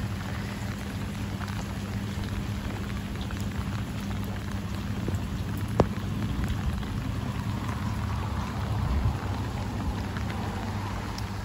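Heavy rain falls on a soggy garden in early winter, a dense steady patter of drops with one sharp tap partway through and no talking.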